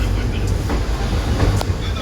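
The 13466 Intercity Express pulls out of Khaldipur station, a continuous rumble of rolling stock with faint rail clatter and a couple of brief high squeals, heard close from aboard the train.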